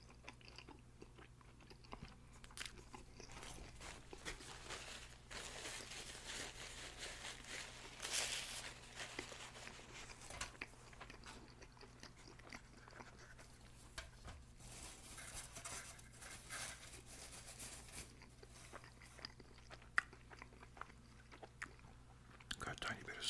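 Someone eats an egg McMuffin close to the microphone, with quiet chewing and soft clicks of dishes and cutlery. Whispered talk runs on and off over a low steady hum.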